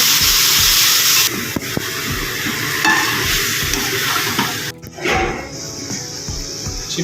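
Chicken pieces hit a hot pan with a loud, close sizzle, followed by scraping stirring strokes and clinks as the frying hiss rises and falls; no one speaks.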